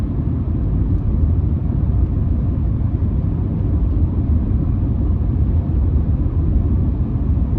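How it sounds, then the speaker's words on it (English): A 1995 Lincoln car being driven gives off a steady low road and engine rumble from inside the cabin, constant and fairly loud throughout, with no talking. "Nice driving little old car here."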